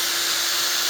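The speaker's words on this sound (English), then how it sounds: "I just use a hand drill for them so that you can do this." A hand drill fitted with a sanding cone grinds against the edge of a wooden fork. It gives a close, steady, high-pitched whirring buzz with no pauses and no voices.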